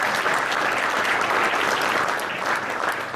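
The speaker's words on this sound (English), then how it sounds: "Could you please give them a big round of applause" Sustained audience applause at a business breakfast, steady and dense clapping from a roomful of people filling the whole stretch without letup.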